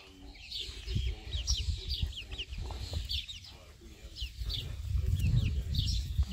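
Twenty-day-old healthy chicks cluck and peep close by in a steady chorus of short, high chirps. Soft rustling and low thumps run underneath throughout.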